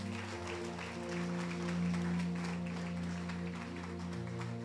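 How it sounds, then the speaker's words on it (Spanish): Congregation applause in a church service, a sustained wash of many people clapping heard over a steady low musical drone, swelling slightly midway and continuing to the end. "Dele un aplauso fuerte a él."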